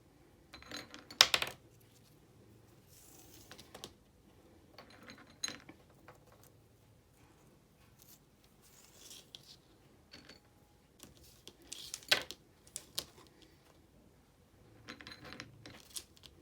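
Wooden beads threaded onto a handmade garland: scattered light clicks and knocks of beads bumping together, close and quiet, in irregular bursts separated by near silence.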